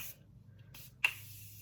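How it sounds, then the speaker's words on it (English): Tarte Maracuja setting spray misted onto a face, a few brief soft hissing spritzes, the last one sharper and closer, in an otherwise quiet room. "This is the Tarte Maracuja setting spray"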